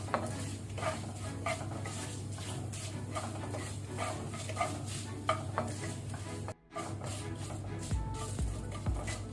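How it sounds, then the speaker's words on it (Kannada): Urad dal fries gently in a pan over a low flame, with a soft continuous sizzle broken by repeated scraping stirs of a utensil against the pan, close and quiet, with a brief gap partway through. "ಲೋ ಫ್ಲೇಮಲ್ಲೇ ಹುರಿಯಿರಿ."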